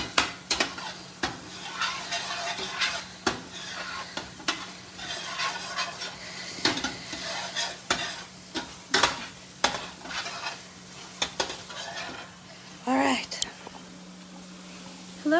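Vodka simmers and reduces in a pot on the stove to deglaze the pan, a low bubbling sizzle broken by frequent spoon clinks and stirring scrapes, with a person speaking softly nearby.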